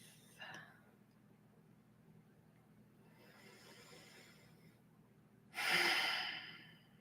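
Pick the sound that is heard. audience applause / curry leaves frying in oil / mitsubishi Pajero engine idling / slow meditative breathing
slow meditative breathing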